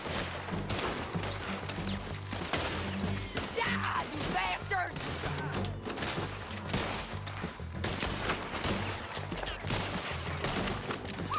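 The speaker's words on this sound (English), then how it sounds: "Does John feel a little bit different to Arthur when it comes to shooting?" Gunfire in Red Dead Redemption 2, with a steady barrage of overlapping shots and impacts continuing throughout, mixed with game sounds and occasional speech.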